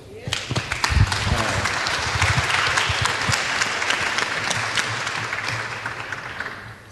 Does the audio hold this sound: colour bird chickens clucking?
no